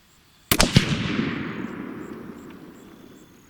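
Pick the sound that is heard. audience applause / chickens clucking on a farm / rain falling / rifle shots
rifle shots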